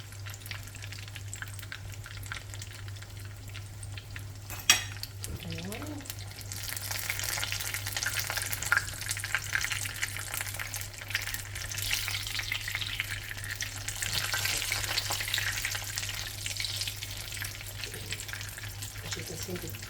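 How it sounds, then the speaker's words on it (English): Chicken frying in hot oil in a small fry pan, a steady crackling sizzle that swells louder midway, with a sharp clack of a utensil early on and a low hum beneath. "leave it to frost for a little bit, and then you can just fry up your chicken."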